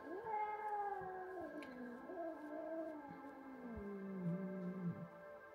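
A cat cries out while being brushed, a long, drawn-out wavering meow that sags and rises again, close and fairly loud, carrying on alone for several seconds.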